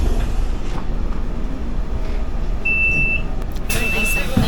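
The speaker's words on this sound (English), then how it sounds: "I'm gonna take the 774 bus" Interior of the 774 city bus in Lisbon while riding, a continuous low rumbling engine and road drone with brief high squeals and clatter, steady and close.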